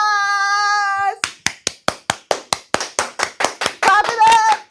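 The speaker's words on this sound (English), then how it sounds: "Clap it up!" Rhythmic hand clapping, about fourteen sharp claps in a steady beat, loud and close, with a sustained tonal musical sound before and voices or music layered over the end.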